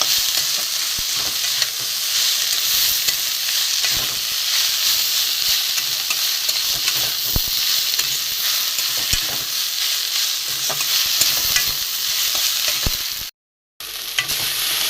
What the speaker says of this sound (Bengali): দিয়ে একটু ভাজবো